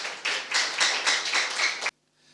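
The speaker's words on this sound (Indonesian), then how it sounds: "Tepuk tangan buat Tuhan kita." Church congregation clapping together in a burst of rhythmic applause, several loud pulses of many hands, then cutting off abruptly into near silence.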